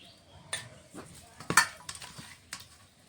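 Fish being mixed with salt and turmeric powder in a metal dish: sparse, close clinks and scrapes arrive at irregular intervals, with one sharper knock near the middle and nothing else going on.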